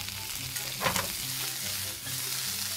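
Chicken wings sizzle and get tossed in a pan of honey brown butter as parmesan goes in, a dense frying hiss with a brief rustling swell from the toss partway through.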